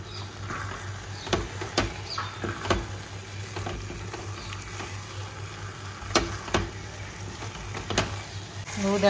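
Khoya frying in ghee in a pan, with a low, steady sizzle and repeated scrapes and taps as it is stirred. A voice speaks intermittently over the cooking.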